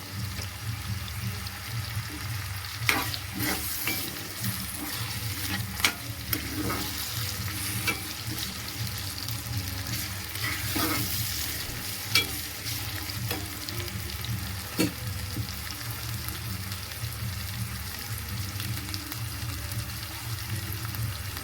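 Tomatoes fry in a pan for an Andhra-style chapala pulusu (fish curry), a steady close sizzle broken by repeated scraping stirs and occasional clinks of the spoon, with no talking.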